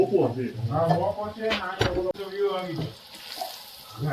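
Gram-flour bhajiya fritters sizzle in hot oil, a soft crackling hiss under a person talking close by.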